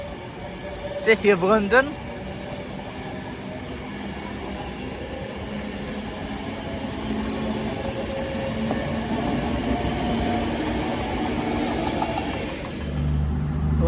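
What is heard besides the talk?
Avanti West Coast train diverted to London Euston from Glasgow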